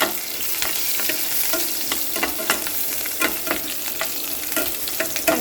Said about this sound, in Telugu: గార్లిక్ జింజర్ చిల్లీ అది వేసుకోవాలండి సార్ అది వేగాలి